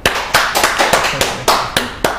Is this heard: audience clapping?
yes